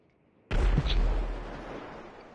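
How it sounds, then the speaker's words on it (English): A single RPG rocket fired in GTA 5 gameplay, a sudden heavy blast out of near silence that rumbles and slowly fades over about two seconds. "RPG bullets are being shot. Who keeps shooting those RPG bullets?"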